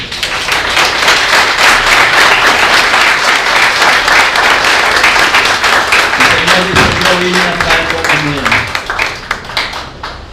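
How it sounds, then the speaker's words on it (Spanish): A church congregation applauds loudly and steadily, dense clapping throughout, with a preacher's voice briefly heard over it near the end before it thins out. "¿Cuánto le dan un aplauso al Señor?"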